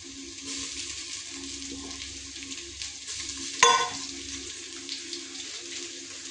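Onions with ginger garlic paste frying in a pan, a soft steady sizzle with light stirring and one sharp clink of a utensil partway through.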